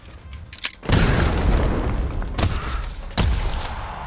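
A grenade going off in the video game Pax Autocratica: a sharp pop, then a loud booming blast with a long rumbling tail, and two further thumping bursts later on.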